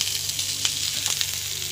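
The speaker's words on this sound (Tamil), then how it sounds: "இப்போ உருளைக்கிழங்கு போட்டுட்டோம். இதை வந்து நல்லா கிளறி விட்டுலாம்." Mashed potato is stirred in a frying pan, giving a continuous, fairly loud sizzle with a few soft spatula scrapes across a brief stretch.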